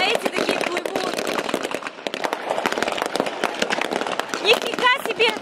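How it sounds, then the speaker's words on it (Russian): Gunfire during a naval training exercise off Crimea comes as dense, rapid popping and crackling throughout, fairly loud, while a person talks excitedly over it. "Ой, они в меня что ли стреляют? Нам стреляют!"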